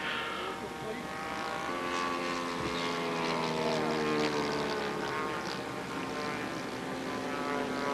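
An RC model racer airplane with a 4-stroke engine doing a touch and go, a continuous droning propeller whine that rises and shifts in pitch as it passes, with a voice talking over it.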